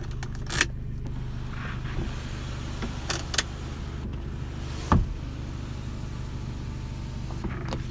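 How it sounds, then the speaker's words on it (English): Power windows on a used car run up and down, with several short motor whirs and clicks against a steady low idle hum and faint rustling. "All the windows go up and down."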